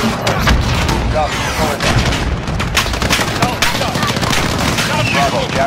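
Rapid rifle gunfire from a Call of Duty: Modern Warfare (2019) mission at the embassy, with dense bursts and booming shots running continuously, loud and close, while voices shout over the battle.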